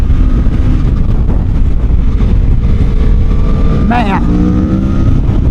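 A 2024 Aprilia Tuono V4 1100 with some miles on it is ridden hard in Mexico. Its engine roars under heavy wind buffeting, with a rising sweep near the end, while the rider talks over it.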